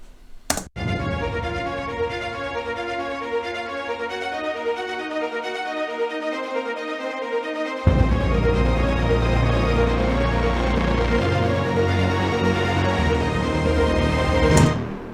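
A full orchestral passage plays a sustained melody, swelling into a louder, deeper section halfway through with heavy low strings and brass, no voices.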